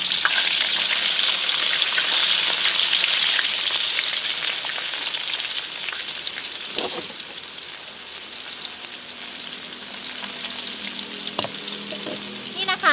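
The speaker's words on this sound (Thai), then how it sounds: "ทอดให้หมูของเราเหลืองอย่างนี้เลยนะคะ" Flour-coated pork pieces fry in a pan of oil, making a continuous crackling sizzle. Sporadic stirring knocks and clinks sound through it, and the frying eases slightly partway through.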